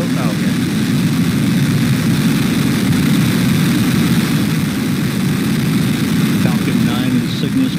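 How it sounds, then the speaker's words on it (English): SpaceX Falcon 9 rocket carrying a Cygnus cargo capsule lifting off toward the International Space Station, its engines giving a steady, heavy low roar that fills the whole stretch without letup, with a launch commentator's voice faintly present. "ignition, engine full power, and liftoff"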